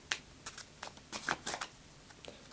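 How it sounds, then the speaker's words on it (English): A deck of playing cards is shuffled in a magician's false shuffle, producing a series of crisp riffling snaps and soft card slaps at an irregular pace, close and fairly quiet, with no talk. "Give it 2 shuffles."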